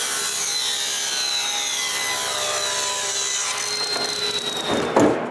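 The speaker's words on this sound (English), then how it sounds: "While the glue dries, I cut another piece of maple for the small fence." A bandsaw cuts through a piece of maple, a sustained, near whining rasp with shifting tones that holds steady before a brief louder burst near the end as the cut finishes.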